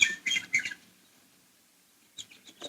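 Birdsong sound effect from a radio drama: bright, high chirping in short bursts at the start, a quiet pause, then more chirps near the end, fairly soft with no talking.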